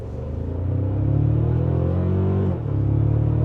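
A 2025 Toyota Tacoma TRD Pro accelerating, heard from inside the cab as a steady, loud engine drone that climbs in pitch, drops briefly at a gear change, then keeps pulling, with no talking.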